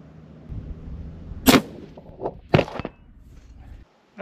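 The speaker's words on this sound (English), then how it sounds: "I'm going to shoot one more time at this." A hunting rifle is fired at a steel target plate, giving a sharp, loud crack followed about a second later by a second sharp impact-like report, with quiet handling noises around them.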